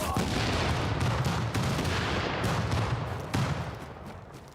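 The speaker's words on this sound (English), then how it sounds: "All the explosions." Gunfire and explosions fill a firefight in the video game The Division. Dense bursts of shots and booms overlap continuously at steady loudness and fade slightly toward the end.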